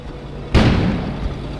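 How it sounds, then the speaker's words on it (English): A sudden booming explosion from the video game Kona, set outside a village, hits with a sharp onset and then rolls into a sustained low rumble that slowly fades, heard alone without talk. "An explosion suddenly occurred outside."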